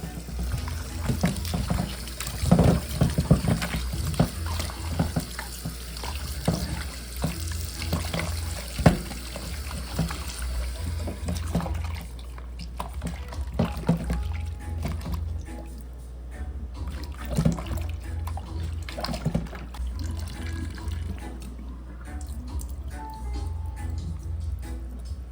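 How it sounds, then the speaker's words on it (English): Water from a tap runs steadily over shrimp and chicken being rinsed in a kitchen sink, with continuous splashing and sloshing close by for the whole stretch. "So I'm going to wash them with some water, clear water."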